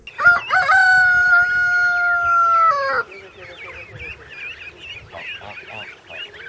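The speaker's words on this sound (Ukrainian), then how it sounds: "В селі кури, е, гуси." A rooster crows loudly nearby in one long, drawn-out call, then chickens cluck and geese honk in a busy, overlapping barnyard chatter.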